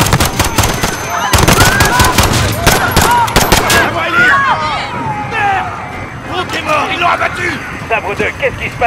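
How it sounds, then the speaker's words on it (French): Rapid bursts of gunfire and booming blasts in the video game Call of Duty: Modern Warfare, loud and close, with voices talking and shouting underneath. "Il y a eu une détonation à Piccadilly Circus. Des coups de feu, plusieurs agents touchés."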